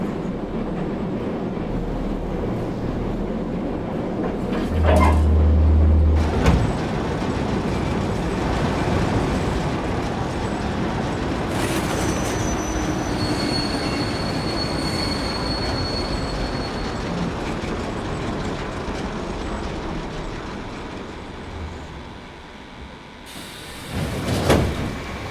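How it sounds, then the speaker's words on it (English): A video game train screeches and rumbles to a stop, its wheels squealing under a steady rail noise, and a door opens near the end. "Oh, the train stopped and the door's open"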